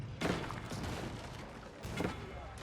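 Cannons fire in the Age of Empires IV real-time strategy game as two heavy booms over dense battle noise, the first just after the start and the second about two seconds in, with no clear talking.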